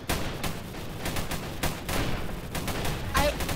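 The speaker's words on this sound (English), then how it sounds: "like some reason I can only hear shotgun" Rapid bursts of shotgun fire in the Roblox game Tower Battles, dense repeated blasts running throughout with a player's voice faintly underneath.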